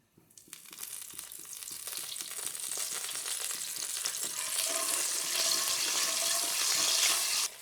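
Water poured into a hot pan of sizzling Kashmiri red chili and spices for dum aloo, a sudden loud hissing burst that swells and crackles steadily, then cuts off near the end.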